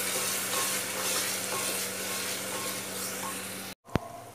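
Ginger garlic paste fries with onions in a pan, giving a steady close sizzle and stirring noises that run throughout and end in a short cut and a clack.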